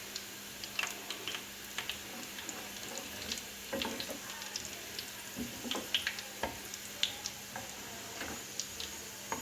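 Cumin seeds and dried red chillies crackling in hot oil over browned onions for a Hyderabadi khatti dal, a continuous sizzle dotted with sharp pops and spits, close and fairly quiet.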